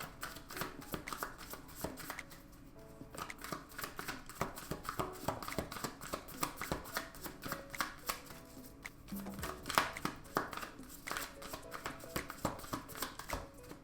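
Tarot cards being shuffled for a reading, a continuous run of close riffling and soft slapping flutters that pauses briefly twice before resuming, with no talking.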